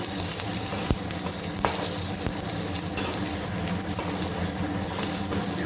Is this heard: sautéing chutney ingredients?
yes